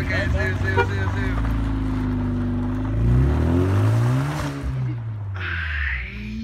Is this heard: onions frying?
no